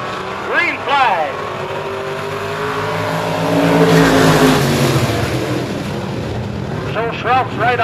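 IMCA stock cars roar past at a McLean County Speedway race under green flag, engines swelling loud and close with revving passes and tire noise, while a commentator talks over the track din.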